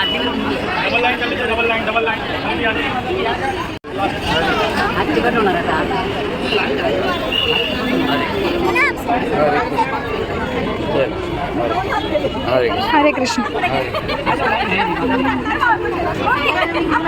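Dense crowd chatter fills a busy ISKCON temple on a Sunday, a constant babble of many overlapping voices close by, with a brief devotional greeting spoken in the mix.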